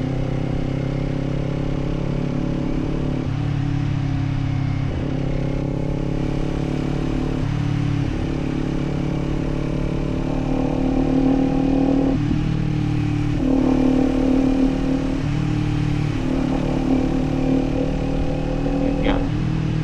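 Kawasaki Z400 motorcycle exhaust heard from the rider's position while riding: a continuous engine drone that rises and falls through gear changes and revs, steady and fairly loud, with no talk over it.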